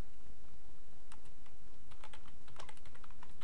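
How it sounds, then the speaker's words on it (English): Typing on a computer keyboard while writing a simple for-loop program, a fast irregular patter of key clicks that thickens into quick bursts toward the end, close and clear over a faint background hum. "Suppose if I want to type this statement"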